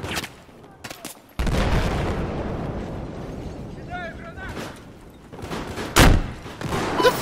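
Gunfire and battle noise in Battlefield 4: after a quiet start, a heavy, sustained barrage of shots and rumbling booms erupts, easing off before another loud burst. A voice speaks over the combat.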